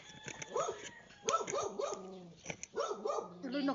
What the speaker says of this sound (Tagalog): Tuloy nagagalit ang aso.